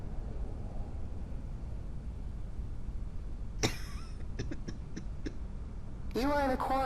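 A man in the video game Quarantine Zone: The Last Check lets out a single harsh cough over quiet background hiss, followed by a few soft clicks and then a voice speaking.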